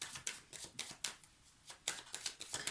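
Tarot cards are laid out one after another on a table for a reading, giving a series of soft, crisp slaps and slides in uneven bursts, close and fairly quiet, with no talking.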